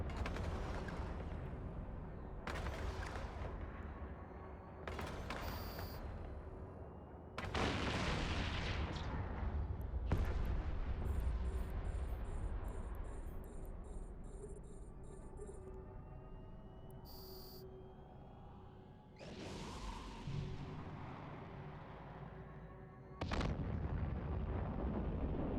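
Weapon fire strikes a ship in the space game EVE Online, a series of heavy booming impacts spaced a few seconds apart with rumbling tails and faint electronic beeps, no talking.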